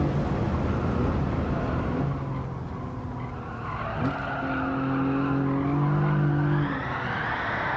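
A race car in Gran Turismo 7 skids and drifts, its tires squealing in long sustained tones over the engine drone, rising and shifting in pitch for several seconds.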